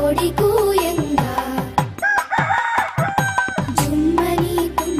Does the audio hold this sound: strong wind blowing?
no